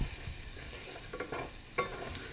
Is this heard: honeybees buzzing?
no